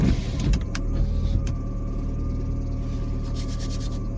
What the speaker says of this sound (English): Power steering pump's just friggin' whining. Making all kinds of noises.